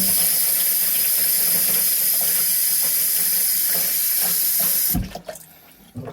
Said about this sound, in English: I'm putting in water the fifth time, and the water should be clear.